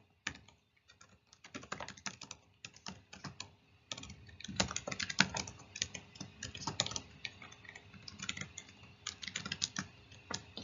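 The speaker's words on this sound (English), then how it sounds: "So I'll go ahead and type in the rest." Rapid, uneven keystrokes tap on a computer keyboard in close, irregular bursts with short pauses between them.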